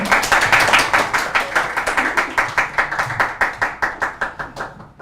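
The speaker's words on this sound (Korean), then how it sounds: "큰 박수로 맞아주세요" Rhythmic clapping from a church audience welcoming their pastor, a loud steady beat of many hands in unison that slowly fades and tapers off toward the end.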